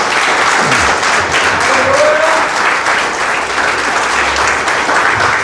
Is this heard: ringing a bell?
no